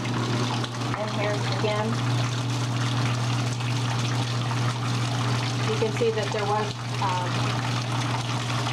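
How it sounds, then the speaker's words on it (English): Water draining from a wringer washer tub through its discharge hose, a steady trickling, gurgling flow under a low mechanical hum, with a person talking over it throughout. "I make sure that the discharge hose is in the tub before I throw the lever to drain the tub"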